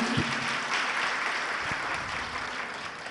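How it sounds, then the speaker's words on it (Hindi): An audience at a Jain religious discourse claps together in a steady, moderately distant wash of applause that stays even throughout without talk. "एक बार जोरदार ताली"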